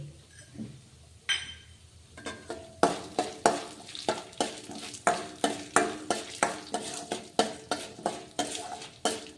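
Whole cumin seeds go into hot oil in a pan while making curry leaf chutney, giving a steady crackling sizzle with repeated sharp metal clinks of a spoon stirring against the pan, fairly close and without talk.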